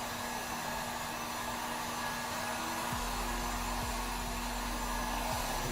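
A hair dryer blowing air over an old motorhome table, a steady continuous whirring roar held close and even throughout with no talking.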